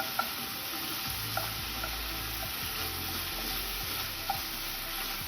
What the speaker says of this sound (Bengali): মিডিয়াম ফ্লেমে আমি চিকেনটাকে নেড়ে চিকেনটাকে ভেজে নেব